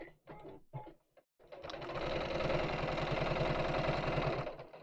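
A sewing machine stitching around fabric shapes, starting after a few brief handling sounds and then running in a steady, fast mechanical whir close by.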